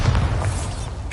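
Bombarda blasting spell exploding in the Hogwarts Legacy video game, a short deep booming thud with heavy low rumble, loud and close, no talk over it.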